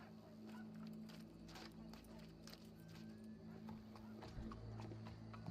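Horse hooves clip-clop steadily at close range over a low rumbling background, with faint voices in the distance.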